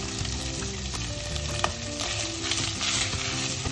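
Bacon and onion sizzle steadily in a hot pan, a continuous close frying crackle with occasional stirring scrapes and one sharp clink of utensil against the pan.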